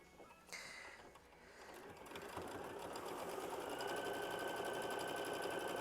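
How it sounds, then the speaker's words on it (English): A sewing machine starts up and stitches quilt fabric for a flower bouquet block, its mechanical whir building from quiet clicks into a steady, even run of close needle strokes with no talk. "We're going to lower the foot, we're going to hit start, and we're going to sew"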